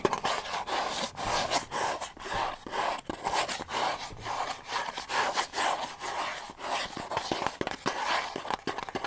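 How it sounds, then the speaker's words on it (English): Fingernails scratch rhythmically across a textured fragrance box with raised vertical and horizontal lines, close and crisp, repeated rasping strokes with soft breaths between. "Let's do some scratching."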